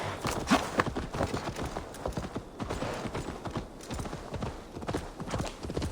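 Horse hooves in the video game Assassin's Creed Valhalla, a close, steady clip-clop of a trotting horse continuing throughout, with faint mechanical game sounds underneath.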